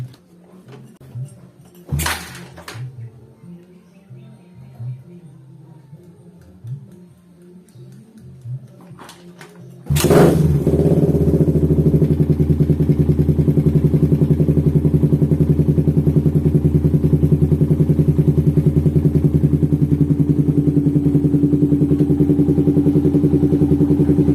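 A Suzuki Satria FU 155cc motorcycle with a tuned, oversized piston setup has quiet clattering work sounds at first, then the engine fires up at about ten seconds and settles into a loud, steady, close running idle.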